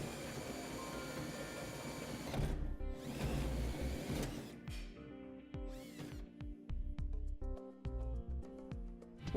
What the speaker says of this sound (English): we'll go ahead and take our hole saw and drill our hole down through the bed